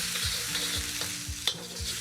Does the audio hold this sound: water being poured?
no